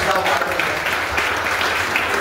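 An audience at a talk on Shivaji Maharaj applauds in honour of Jijabai, a dense, continuous wash of clapping that fills the room with voices mixed in.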